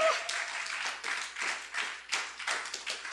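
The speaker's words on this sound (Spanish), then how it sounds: "Le da un aplauso al Señor por eso." A church congregation claps through a short burst of applause, with irregular hand claps forming a dense, medium-loud patter that rises and falls in waves.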